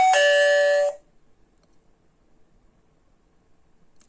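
A 433MHz wireless doorbell button is pressed, giving one loud, close electronic chime of about a second, followed by near silence.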